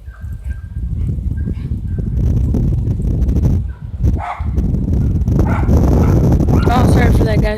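A dog barks and lunges at a rider near a new dirt bike, loud repeated barks over a continuous roar and wind noise, with excited voices shouting over the commotion.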